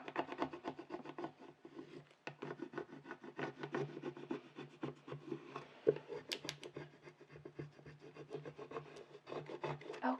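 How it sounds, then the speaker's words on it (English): A squeegee tool rubbed back and forth over layered vinyl pieces for a Cricut Joy project gives a close, steady scraping and rubbing sound with repeated short strokes that continue throughout, with no talking. "I'm going to take my little squeegee tool, just rub that down."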